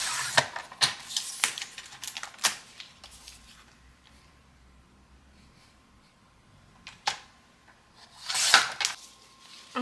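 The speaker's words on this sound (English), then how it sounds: "So I'm going to trim this real quick" Scissors trimming a laminated notebook cover, a few sharp close snips and crisp plastic crinkles in short bursts separated by quiet pauses, with no speech.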